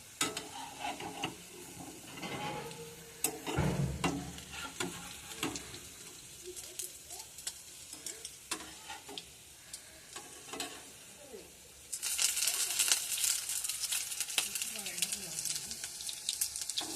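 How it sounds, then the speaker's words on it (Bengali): Fish roe fritters fry on a low flame with a soft, steady sizzle and some stirring. A louder burst of hissing comes later, and a little water runs now and then. "লো ফ্লেমে হালকা করে ভাজা হবে, তবে ভিতরে ভালো করে ভাজা হবে"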